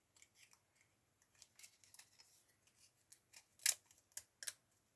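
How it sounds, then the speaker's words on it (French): Scissors cutting thick paper: a run of faint, sparse snips and crunches that grows into several sharper, louder cuts near the end, heard up close in a quiet room. "Mon papier est trop épais, il n'a pas fini de couper."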